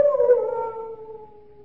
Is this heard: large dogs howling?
yes